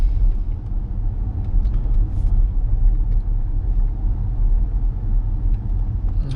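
A Porsche Panamera e-hybrid drives at night, heard from inside as a steady low road rumble and muted engine drone, continuous and fairly loud, with light tyre noise and no talking.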